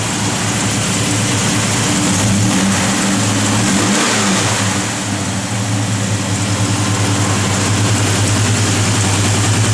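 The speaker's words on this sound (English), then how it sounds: "Car sounds mean." A Chrysler with a mild cam idles with a lumpy rumble and then revs up, the engine loud and close, with no talking over it.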